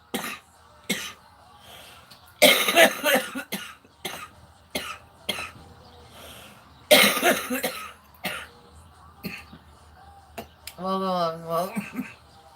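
Several loud bursts of coughing and throat clearing, close by, scattered among short clicks and a person talking near the end.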